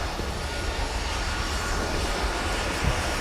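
A Delta Boeing 757 jet passes at MSP airport in winter, a broad, steady roaring engine whoosh heard fairly close and continuous throughout, with no talking.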